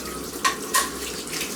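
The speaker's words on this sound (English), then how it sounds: "after grating, you remember, I have to put it in water so that it is washed" Tap water runs steadily into a sink to rinse freshly grated seasoning for a beef dish, a continuous close splash with two brief louder surges.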